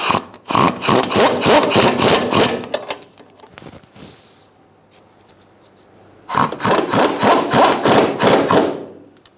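Rear shock absorber bolts on a 2010-2013 Kia Soul being snugged up: two loud bursts of rapid, even clicking strokes, separated by a few seconds of near quiet.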